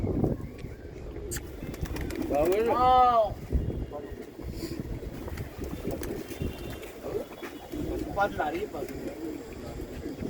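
Pigeons perched on a rooftop loft coo amid wind buffeting the microphone, with one clear rolling coo standing out briefly while someone talks over the outdoor background.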